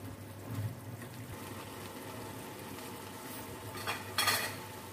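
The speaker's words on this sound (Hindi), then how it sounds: "मटर को हम मिक्स कर लेते हैं।" Peas being stirred into mutton frying in a pot, with scraping and clinking of a utensil against metal and a faint sizzle throughout, a louder clatter near the end.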